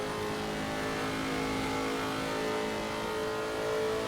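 Lexus RC F GT3 race car engine in Assetto Corsa Competizione, a loud sustained high-revving roar at speed down a straight, steady and close with no talk.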